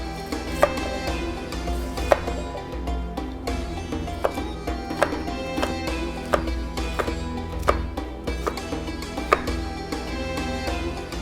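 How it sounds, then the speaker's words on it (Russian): Steady, rhythmic knife chopping of carrots into cubes on a cutting board, a quick run of close, crisp taps with a few sharper louder strikes, no talking. "Точно так же кубиком нарезаем морковку."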